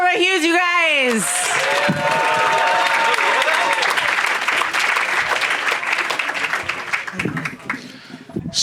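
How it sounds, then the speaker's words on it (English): Comedy club crowd at the Punchline breaks into loud, sustained applause with cheering for comic Zorba Hughes, a dense wash of clapping that follows a brief spoken intro and thins slightly near the end. "Start clapping now for Zorba Hughes"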